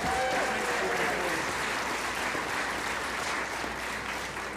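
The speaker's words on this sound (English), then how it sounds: "Please give them a round of applause." A concert audience at a fingerstyle guitar festival applauds steadily, a dense wash of clapping that holds strong throughout and fades only slightly at the end.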